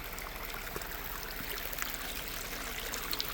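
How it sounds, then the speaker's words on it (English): Water runs down the middle of a muddy dirt road, a steady low trickling and streaming wash that is faint and continuous with no voices. "Water running right down the middle of the road."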